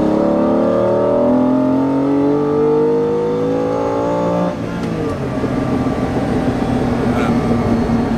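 A classic car's engine revs up through second gear to about 5000 rpm on a road reaching 100 km/h, a loud rising drone that drops abruptly at a gear change, then steady road and engine roar.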